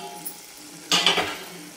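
Mutton rassa masala fries in oil on a low gas flame, a quiet, faint simmering hiss that swells briefly into a louder sizzle burst midway before settling back down.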